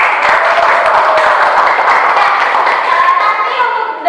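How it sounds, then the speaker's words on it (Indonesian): Classroom of students clapping their hands together in one loud, dense round that runs evenly to the end, with children's voices mixed in. "Oke, sekali tepuk tangan buat kalian."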